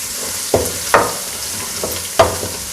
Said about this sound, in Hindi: ये देखें थोड़ा सा ज़ीरा फ्राई हो रहा है।